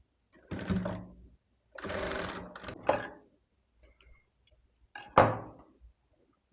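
Sewing machine stitching lining cloth onto a baby's short top, running in several short bursts of whirring with pauses and a few light clicks between them.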